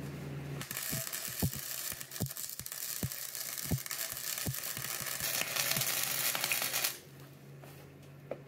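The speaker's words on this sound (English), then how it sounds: "Welded both of the wheel mounts on." Welding wheel mounts onto a homemade motorized solar power station, a continuous crackling hiss running about six seconds, punctuated by regular ticking clicks, close by before it cuts off.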